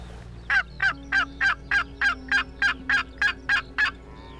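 A male wild turkey gobbles in a rapid run of about twelve evenly spaced, loud rattling calls, close by outdoors over a quiet background.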